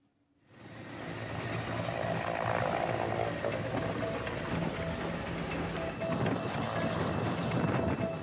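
An air force helicopter ferrying polling teams to a base camp drones loudly and continuously, its steady roar rising from near silence within the first second and holding for the rest.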